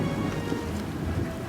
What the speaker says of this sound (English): That steady rain rapidly grew into a powerful, relentless storm.